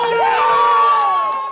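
Scientists and engineers at Mission Control cheer as the DART spacecraft strikes the asteroid Dimorphos, a loud, sustained crowd roar of whoops and shouts swelling briefly, with no distinct speech.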